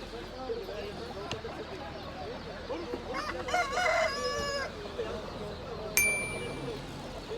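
A rooster crows loudly amid a busy, noisy poultry market crowd in Taşköprü, Kastamonu, with chatter all around and a sharp metallic ding near the end.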